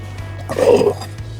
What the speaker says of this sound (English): we're going to take this water and just dump the water because I don't need the water